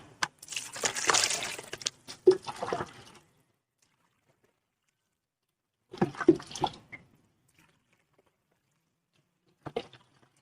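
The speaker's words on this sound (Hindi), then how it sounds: "तो चलिए हम पानी डालते हैं" Water splashing and pouring in bursts onto a coco peat block: a long gush, then a pause, another shorter pour, and a brief final trickle.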